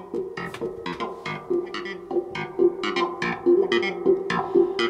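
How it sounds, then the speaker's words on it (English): Clavinet played in choppy funky stabs through a wah-wah pedal into a Roland Space Echo, with quacky filtered notes and echo tails in a rhythmic pattern, up close with no voices. "That's just like a clav going for a wah-wah into my space echo,"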